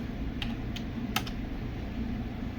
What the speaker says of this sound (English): And I'll type my name